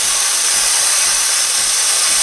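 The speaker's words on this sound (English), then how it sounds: "you wait for the machine to actually have steam coming out of it" Breville Barista Express espresso machine releasing steam, a loud continuous broadband hiss, close and steady throughout with no voices.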